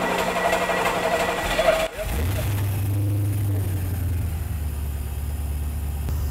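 An engine cranks after a break in the sound and then settles into a steady, low idle. It is fairly quiet and close, with no talk over it.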